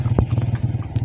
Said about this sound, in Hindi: ये घोड़े